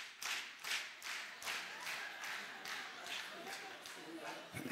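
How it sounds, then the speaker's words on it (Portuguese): A crowd claps steadily in time to a samba beat, the rhythmic palm strikes repeating at an even pulse through a lively, reverberant hall, with singing voices faintly underneath. "Só nas palmas vocês já atravessaram o samba todo."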